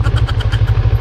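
A CFMoto NK400 motorcycle engine labouring slowly uphill on a rocky road in Batangas, with a low, rapid, throbbing beat, loud and close, chugging evenly through the whole moment.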